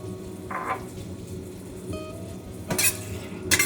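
Minced garlic sizzling in a pan with mushrooms and their released juice, a steady soft fry under a few sharp clinks of a utensil against the pan.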